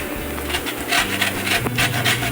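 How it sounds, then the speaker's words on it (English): A lemon being zested on a grater, with steady rhythmic rasping strokes close to the microphone and a low hum underneath. "We also are going to take the zest of 1 lemon."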